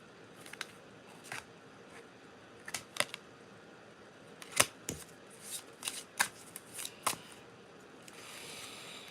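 Tarot cards being shuffled in a series of quick riffling bursts and soft card snaps, close and fairly quiet, with no talking.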